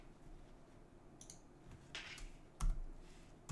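Quiet clicks of typing on a computer keyboard, a handful of scattered keystrokes with a couple of louder taps near the end, close and faint with no talking.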